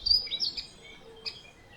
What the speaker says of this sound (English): Up in the pine tree up there, there's 2 or 3 woodpeckers having a right